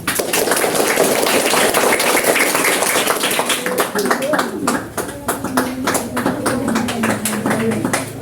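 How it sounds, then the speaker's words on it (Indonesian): Audience applause for Wonocolo at a class outing to the traditional Teksas Wonocolo oil wells in Bojonegoro: steady, dense clapping across the whole stretch, close and loud, with voices murmuring and talking over it toward the end. "Tepuk tangan buat Wonocolo"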